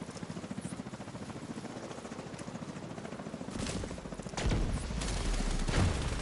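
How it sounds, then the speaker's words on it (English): A helicopter in the video game The Division 2 thumps with a steady rotor pulse that grows louder and nearer toward the end, joined by bursts of gunfire. "Helo inbound to your location."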